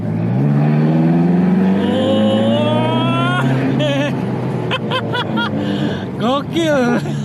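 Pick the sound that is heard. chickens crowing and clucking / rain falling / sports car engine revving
sports car engine revving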